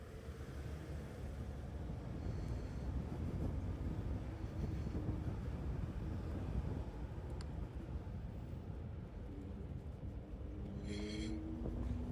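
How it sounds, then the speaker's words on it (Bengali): Strong night wind buffets the microphone while someone rides a scooter through New York City. A continuous heavy roar and rumble runs throughout, with faint tonal traffic sounds in the distance and no talking. "প্রচুর বাতাস প্রচুর বাতাস রাতে একটা প্রবলেমই হয় যে অনেক বাতাস থাকে"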